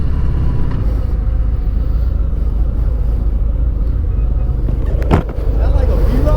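A 2019 Harley-Davidson FXDR motorcycle out on a test ride in the city, a loud steady engine rumble with wind noise, a sharp clunk near the end, and a rider talking over it.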